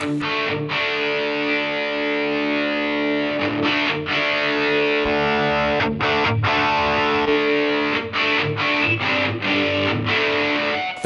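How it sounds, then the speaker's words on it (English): Distorted electric guitar through a modeler with heavy hall reverb, played steadily and loudly throughout in sustained chords and riffs, with brief gaps where the reverb tail rings on. "hall reverb, you probably want to be a bit more subtle with it than we are here"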